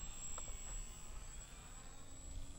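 A small radio-controlled foam Twisted Hobbys Fokker model plane flies overhead, its electric motor giving a faint, distant whine with a steady high tone over soft wind noise.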